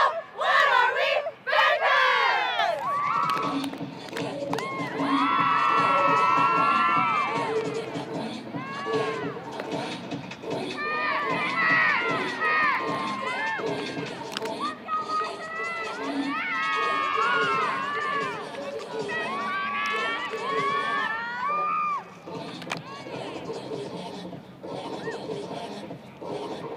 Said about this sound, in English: This week featuring the cheer squad from San Mateo High School.